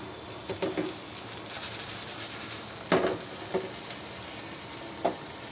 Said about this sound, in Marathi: अशी काविल फिरवून व्यवस्थित शेकून घ्यायचं